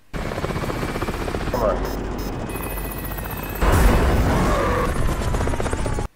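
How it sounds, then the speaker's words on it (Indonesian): A film scene in which the side of a helicopter explodes: loud, continuous rotor and engine roar with a heavy blast-like surge midway, along with a brief shouted voice. "sisi samping helikopter meledak dan merusak keseimbangannya"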